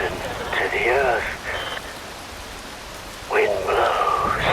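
Steady, loud rain hiss from the video game Metal Gear Rising: Revengeance, continuing unbroken while a voice speaks over it in two stretches.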